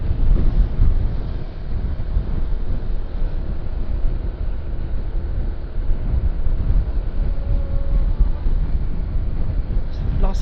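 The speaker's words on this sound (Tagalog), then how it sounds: "Lakas ng hangin, bra." Strong wind buffets the microphone while riding a Honda ADV160 scooter along the Marilaque mountain road, a continuous low rumbling roar with gusty surges that persists for about ten seconds.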